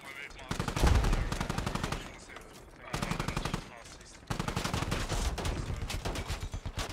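Heavy gunfire in the tactical shooter game Squad during an armored battle: repeated rapid bursts of automatic fire and a sharp blast, loud and continuous, with brief lulls between volleys.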